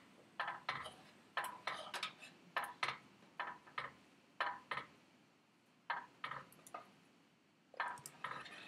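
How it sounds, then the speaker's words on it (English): A spoon scraping and knocking around a big pot of oatmeal-like beer mash during home brewing, about fifteen short clattering strokes in an uneven rhythm, fairly quiet and close, with no talk. "we'll start to give that a quick stir"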